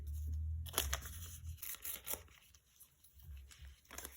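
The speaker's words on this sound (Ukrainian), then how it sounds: "давайте перше відкриємо ось такий пакетик" A paper packet is torn open in a few short ripping bursts, followed by quiet crinkling close by with a low hum underneath.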